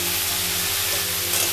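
Peanuts frying in a pan give a brief, loud, steady sizzle with faint stirring, close by, over a low hum, with no talk.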